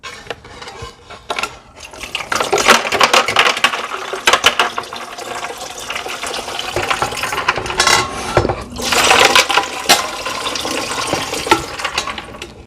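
Water and ice cubes are poured from a pitcher into the tank of a Hifresh tower air cooler, a steady loud splashing pour with ice clattering and rattling throughout and no talk.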